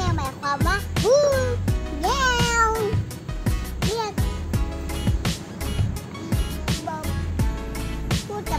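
Several cat meows, some rising and falling in pitch, sound close and fairly loud over a busy indoor background with other voices and clatter.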